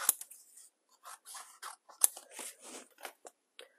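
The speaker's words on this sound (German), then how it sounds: "Habe mir dann ein Stück Papier zugeschnitten" Scissors snip through a sheet of paper being trimmed into a rectangle, making a quiet, close series of crisp cutting strokes separated by short pauses. No one speaks.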